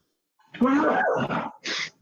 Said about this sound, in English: Sorry, sneezing jag.